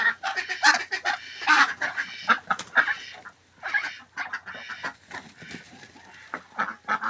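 Ducks in a farmyard flock, including three-year-old white ducks and a young Muscovy duck, give repeated loud nasal honking quacks in uneven bursts close by.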